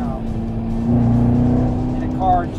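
A Corvette engine drones steadily under paddle-shift control, then gives a brief rising rev near the end, loud and close.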